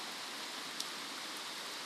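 Heavy downpour at a country house, a continuous, close wash of rain noise holding a level intensity from start to finish, with one faint tick partway through and no speech.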